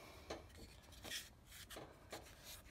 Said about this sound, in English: 50 turns of the handle to grind one serving